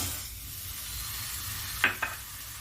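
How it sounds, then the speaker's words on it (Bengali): Sugar being stirred into a bowl of water to make syrup for chhanar malpoa, a soft continuous swishing hiss close by, broken near the end by two sharp clinks of a utensil against the bowl. "এক বাটি জল এটাকে আমি ভালো করে গুলে নিচ্ছি"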